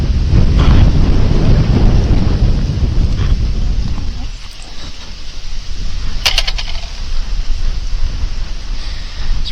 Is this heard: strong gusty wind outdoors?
yes